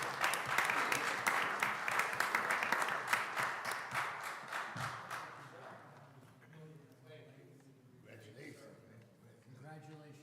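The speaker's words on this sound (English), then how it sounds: "Let's give him a round of applause," Audience at a school board meeting applauding an award winner, dense clapping for about five seconds that thins into scattered claps and fades, followed by people talking nearby.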